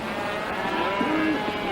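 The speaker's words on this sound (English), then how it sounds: "I told you, rawhiders, that was Priest's cattle" Cattle mooing in a 1952 Western, a low drawn-out lowing over a noisy, busy outdoor background.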